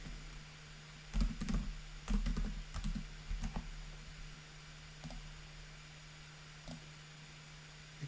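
Keys clatter on a computer keyboard in a few quick, close bursts of typing as a name is entered, then give way to a couple of isolated taps over a steady electrical hum.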